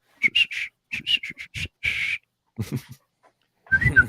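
A person whistles a clumsy, broken tune in short choppy bursts with gaps between them, fairly clear and with no talking over it.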